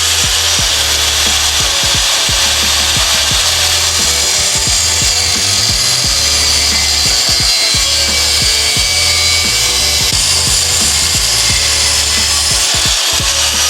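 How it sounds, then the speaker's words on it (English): A power tool saws steadily through a metal turbo support bracket during a downpipe exhaust install on a 2022+ Subaru WRX, making a loud, continuous rasping grind with a rapid rhythmic chatter. "just cut it into two pieces because it is a turbo support bracket"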